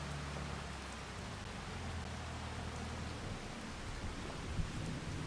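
Rain falling in the Farming Simulator 25 video game, a steady even hiss of drops that continues without a break, with a low rumble underneath early on.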